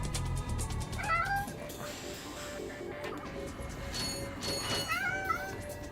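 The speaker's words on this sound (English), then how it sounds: "There's the other kitty cat." A cat in the Ratchet & Clank game on PS3 meows twice, short rising calls about four seconds apart, moderately clear over a low background of game music and hum.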